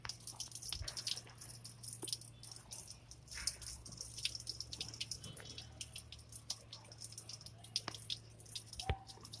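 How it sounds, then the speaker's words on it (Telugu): Faint trickling water from a tube drips and splashes steadily at a low level into a terrace lotus container, with occasional small droplets and a soft background hum. "ఒక 5 మినిట్స్ వరకు ఇలాగే వాటర్ పెట్టి వదిలేస్తామండి"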